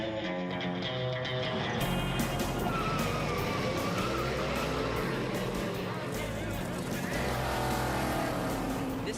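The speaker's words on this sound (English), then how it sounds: "This is one mean race car." A Ford Falcon race car's engine runs loud and close with a harsh, sustained roar that swells and pulses in pitch, with voices talking over it.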